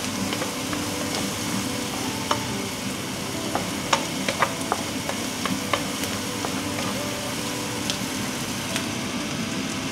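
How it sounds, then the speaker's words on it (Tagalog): Aromatics sautéing in a hot pan until golden brown, a steady close sizzle with scattered utensil clicks and scrapes from stirring throughout, no voices. "gigisa lang natin hanggang sa mag-golden brown"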